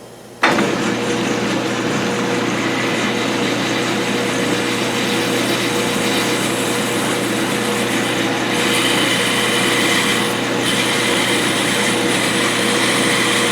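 A steady, high-pitched motor whine runs continuously after a sudden start, a large drill bit boring into metal, with slight shifts in tone.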